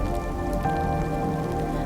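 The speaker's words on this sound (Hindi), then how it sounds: "बारिश टूट पड़ी, तेज, ठंडी, बेरहम।" Heavy, cold cartoon rain pours down steadily, a dense unbroken patter with a faint ringing tone woven through it, loud and close with no voices.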